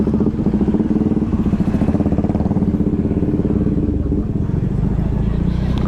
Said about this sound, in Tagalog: Ayan pa, may motor pa oh.